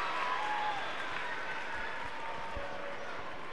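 Steady crowd applause and murmur fills a basketball arena during a Cape Breton Highlanders vs London Lightning NBL Canada game, a broad continuous wash with faint sneaker squeaks and scattered voices underneath.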